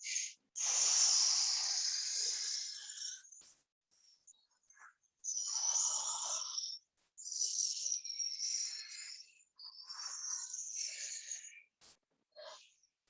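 Soft, breathy hisses pushed out through the teeth during a somatic breathing and movement warm-up on a mat, four or five drawn-out exhales in a row separated by short quiet gaps, close and fairly faint.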